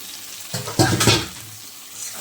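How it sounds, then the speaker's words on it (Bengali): Goat meat tipped into spice paste frying in a pan for a mutton curry sets off a loud burst of sizzling and stirring that swells and then settles back to a low hiss. "এবার আমি মাংসটা দিয়ে দেব। আমি খাসির মাংস করছি এটা"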